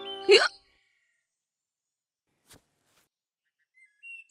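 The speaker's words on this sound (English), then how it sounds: "This is sure to get rid of your hiccups." A cartoon child hiccups once, sharply and close, followed by near silence with only a faint click and a brief high tone toward the end.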